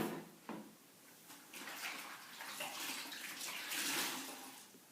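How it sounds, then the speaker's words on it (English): Running water splashes and rinses across a freshly scrubbed surface during household cleaning, a soft hissing flow that swells and fades for several seconds at close range. "Maybe a bit of a rinse off."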